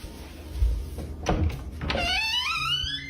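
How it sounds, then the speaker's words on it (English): A creaky basement door swings open, a few dull thunks and knocks followed by a rising, drawn-out high creak toward the end, close and fairly quiet. "Wait, the door is so creaky."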